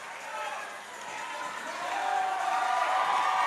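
A large indoor crowd at the Adaptive CrossFit Games roars and cheers, the din swelling louder toward the end beneath an announcer's speech.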